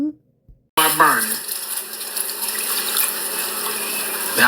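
Water runs from a kitchen tap into a pot while meatballs and gravy are being cooked, starting abruptly after a moment of near silence and then pouring as a steady bright hiss that continues to the end.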